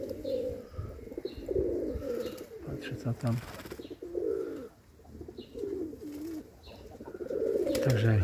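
Pigeons in a loft coo repeatedly in soft, throaty phrases close by, while someone speaks briefly between the calls.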